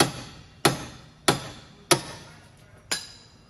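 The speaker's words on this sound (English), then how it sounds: "Now, for the actual ball joint, I'm going to hammer it." Five sharp metallic hammer blows strike a lower ball joint on a Lexus GS300, spaced roughly evenly apart, each ringing briefly over a steady background hiss.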